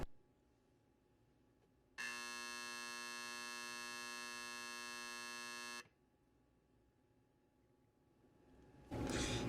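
A fire alarm bell on a building system under test, set to its lowest volume. It gives one steady, even buzzing ring of a few seconds, moderately loud against a quiet room, then stops.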